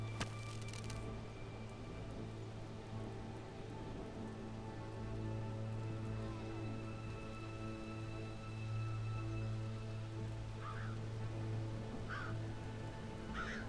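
Rain falls in the Robin Hood: Sherwood Builders game, a steady hiss over a low ambient hum, with a few faint creature or bird calls near the end.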